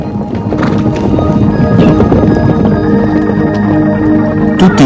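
Wild horses running: a loud, dense, continuous patter of galloping hooves with occasional whinnies rising above the drumming.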